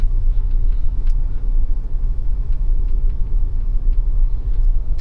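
A car drives slowly during a driving lesson, producing a steady low engine and road rumble close by and without a break, with no talking.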